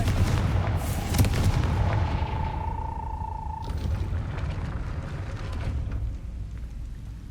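A blasting-spell explosion in the video game Hogwarts Legacy booms and rumbles at length, with a ringing magical tone that fades before a second deep blast and a slow rumbling decay.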